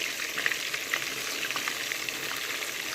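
Chicken pieces frying in a pan as they are turned one by one, a continuous close sizzle with small crackles and light scraping bumps at irregular moments.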